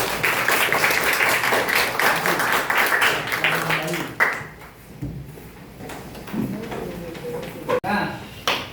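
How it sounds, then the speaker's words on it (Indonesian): Classroom of junior high students clapping together, a dense burst of applause filling the first few seconds, then fading out with a few scattered claps and some chatter. "Oke, beri aplaus."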